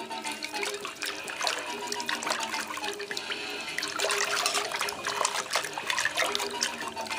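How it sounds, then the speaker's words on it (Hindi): Shampoo and a few lemon drops being mixed by hand into a basin of water for a pedicure, a steady close sloshing and splashing that continues throughout with no speech. "अच्छी तरीके से हमें इसको मिक्स कर लेना है, शैम्पू और लेमन को।"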